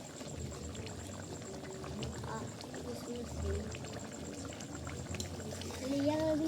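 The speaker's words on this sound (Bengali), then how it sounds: "ভালো ফুটছে এবারে।" Chicken curry boiling in a pot makes a faint, steady bubbling and gurgling, with a brief murmured voice over it and a slight swell near the end.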